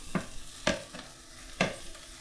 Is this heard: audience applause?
no